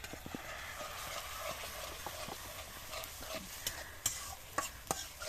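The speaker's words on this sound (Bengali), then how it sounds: "এখন মশলাটা কষিয়ে নেব।" Spices for a Chinese-style duck curry are stirred and fried on a leaf-fired stove at night, with a steady sizzle and scraping stirs ending in sharp clacks of the utensil against the pot.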